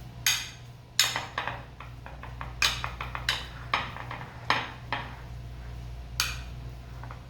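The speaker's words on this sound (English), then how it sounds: "So you keep using your spoon to flatten it out." A spoon scrapes and taps against a dish while pressing and smoothing a strawberry oat bar mixture flat, giving a run of irregular clicks and scrapes, close and fairly distinct over a steady low hum.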